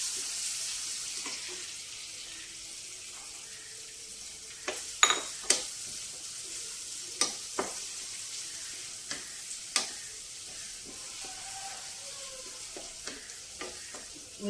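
Chopped onions frying in a pan with fenugreek powder and turmeric for a Telugu ridge gourd (dosakaya) curry, a soft steady sizzle with scattered sharp clicks of stirring against the pan, fairly quiet and close, with no talk.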